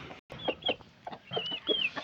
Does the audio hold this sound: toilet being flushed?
no